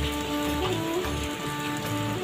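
Rain falls in a village with a steady, even patter on surfaces, accompanied by a constant humming tone in the background.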